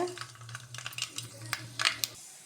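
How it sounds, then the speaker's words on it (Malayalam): Mustard seeds crackle in hot oil in a pan while rava upma is being made, with scattered sharp pops and sizzling bursts over a low steady hum, fairly quiet overall. "കടുക് പൊട്ടിയിട്ടുണ്ട്."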